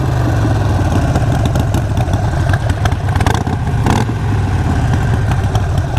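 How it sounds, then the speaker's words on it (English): A Harley-Davidson Iron 883 motorcycle engine idling close by, a loud, steady, lumpy rumble with slight fluctuations throughout, no talking. "There's some fucking hooligan on a motorcycle revving and being loud as"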